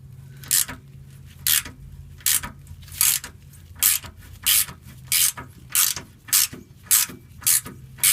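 A 10mm ratchet backing out a sway bar bushing bolt on a GMC Savana or Chevy Express, giving a string of short, crisp clicking bursts at a steady pace, close and clear with no talking.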